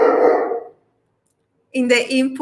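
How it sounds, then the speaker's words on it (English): A pet dog indoors gives two short, loud barks, separated by a second of silence. "sorry, that's my dog."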